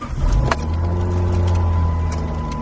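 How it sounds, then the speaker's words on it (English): Dodge Magnum car engine cranking and catching, a short starter whir followed by a steady low idle close by. "we're gonna go ahead and start the car."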